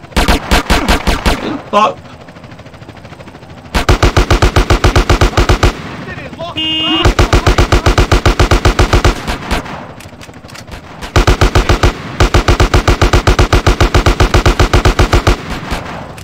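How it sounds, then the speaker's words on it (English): Rapid automatic gunfire from a police shooter in GTA San Andreas, loud and close, coming in several long sustained bursts separated by brief pauses, with a man swearing briefly between volleys. "He's shooting at me"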